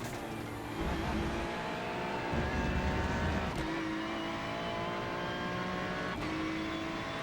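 A racing video game's race car engine drones steadily and loudly throughout, its pitch rising and dropping as it revs and shifts, with no talking.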